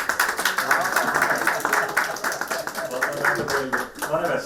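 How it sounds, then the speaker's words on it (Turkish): People clap for a young girl at a surprise birthday celebration, a crowd applauding in a steady patter with some chatter and voices mixed in. "Bir alkış alalım mı?"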